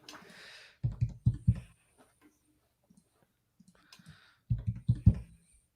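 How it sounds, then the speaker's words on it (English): Keys clatter on a mechanical keyboard with no shock mount. Two short bursts of fast, heavy, close typing are separated by a quiet gap. "you are hammering them keys"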